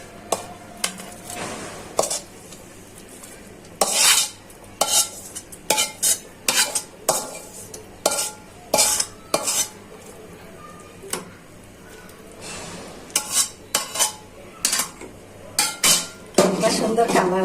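Bottle gourd fried in advance is stirred into rice pudding simmering in a pot, giving repeated close clanks and scrapes of a spoon against the metal pot at an irregular rhythm, with a faint sizzle underneath and no talk.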